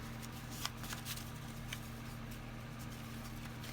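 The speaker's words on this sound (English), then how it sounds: "I'm going to shuffle them up." A deck of cards is shuffled close by, a soft continuous riffling patter with a few sharper flicks over a low steady hum.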